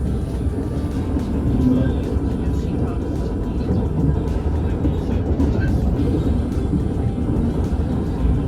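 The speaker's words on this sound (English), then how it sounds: "We're on the White Pass and Yukon Railway in Skagway, Alaska." White Pass and Yukon Railway train running near Skagway, Alaska, a steady low rumble and rolling clatter that holds at an even loudness throughout, close and continuous, with faint voices mixed underneath.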